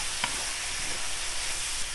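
Mushrooms, sausages and vegetables fry in a pan with cilantro and spices, giving a steady, close sizzle with a brief stir near the start and no talking.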